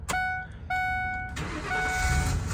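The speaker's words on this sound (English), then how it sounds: "Let's go ahead and start it up so we can stop the little Ford beeping" A 2008 Ford E-350 cutaway truck sits with its warning chime beeping in two steady tones, then the engine cranks and catches, settling into a close, rumbling idle.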